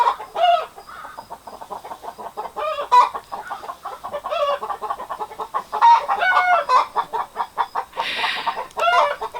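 Hens in a backyard greenhouse coop cluck a loud, repeated egg song after laying, the rhythmic cackling bursts running steadily throughout with a brief rustle near the end.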